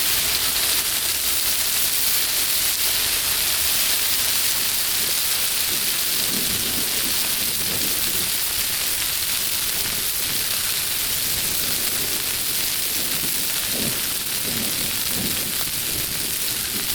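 Heavy rain pours steadily outdoors during a Blackstone griddle cookout, a dense, constant hiss with low rumbling underneath, loud and unbroken throughout.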